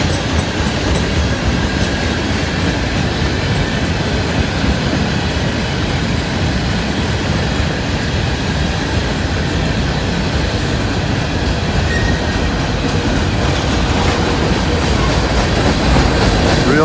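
A freight train hauling LP gas tank cars rolls past close by, loud and continuous, with rumbling wheels, rhythmic clickety-clack over rail joints and occasional faint squeals, and no voices.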